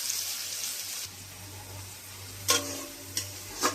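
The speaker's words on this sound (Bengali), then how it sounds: "পেঁয়াজটাকে একটু ব্রাউন কালার মতন করে ভেজে নেব" Onion and young parboiled jackfruit fry in a pan with a soft, steady sizzle, broken by a few sharp scraping stirs near the end, close and with no talking.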